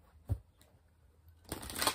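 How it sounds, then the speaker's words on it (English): Quiet, close handling of tarot cards: a soft tap, then a brief papery riffle as the deck is shuffled. "And let's do some initial shuffling."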